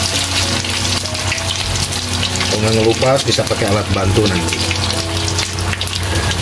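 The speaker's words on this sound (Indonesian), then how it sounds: "Dan langsung digoreng. Biarkan saja sampai dia ngelupas ya teman-teman." Rempeyek batter fries in hot oil with a steady, loud hiss and crackle that runs throughout, while someone talks over it.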